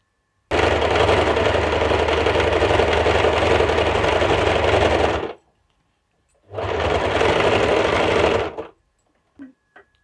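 A sewing machine stitches half-collar suit fabric in two loud, steady runs, the first about five seconds long and the second about two, separated by a short pause and followed by a couple of faint clicks.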